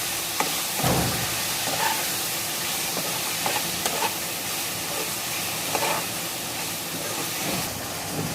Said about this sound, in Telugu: అరకిలో ముక్కలు కదా, ఒకసారి కలిపేసుకోండి.